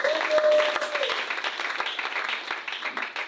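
A church congregation applauds and acclaims the Lord, with dense, sustained clapping and cheering filling the room throughout and a brief raised voice at the very start.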